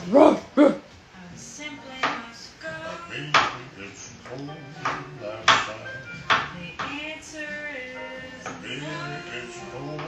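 A dog barks in short deep bursts, loudest at the start and repeating irregularly, while people talk in between and over it.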